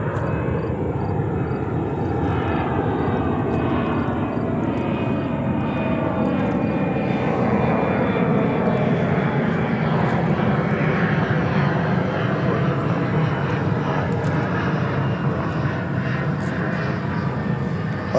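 A cargo plane rolls along runway 13 Right at JFK airport in New York, its engines producing a loud, continuous roar that holds steady close by throughout.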